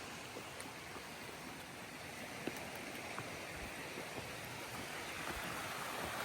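Steady rushing water of a mountain stream in the Carpathians, near the Hoverla waterfall, flows continuously, a broad even wash running over rocks, with faint scattered splashes and no talking.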